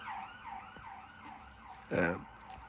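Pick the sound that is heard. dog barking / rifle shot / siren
siren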